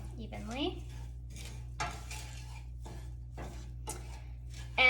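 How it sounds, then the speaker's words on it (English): A spoon or spatula stirs tofu scramble in a pan, giving a run of quiet, irregular clinks and scrapes against the metal, with a short bit of voice at the start. "I'm gonna go ahead and give it a stir so it's all coated"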